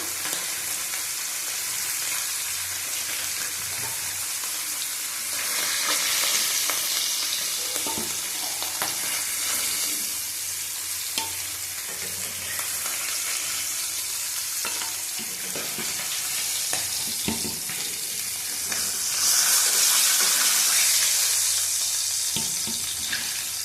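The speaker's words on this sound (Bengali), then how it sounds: "ইলিশ মাছগুলো হালকা ভেজে নেবো, তুলে নেবো।" Hilsa fish pieces lightly frying in hot oil give a steady, close sizzling hiss that swells and eases, with occasional soft scraping and stirring knocks.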